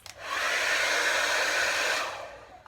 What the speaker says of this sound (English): And then it is time for the blow dryer.